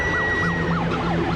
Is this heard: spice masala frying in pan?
no